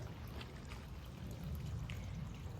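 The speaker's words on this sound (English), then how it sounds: "I gotta go turn the water off now" Water pours and trickles steadily at close range into a greenhouse container near a hen and her week-old chicks, a continuous low splashing flow with no voices.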